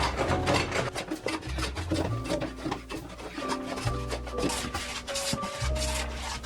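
A single-iron hand plane (a smoothing plane) shaving the surface of a wooden board, giving a continuous rasping, scraping run of close, fairly loud strokes with low thumps between passes.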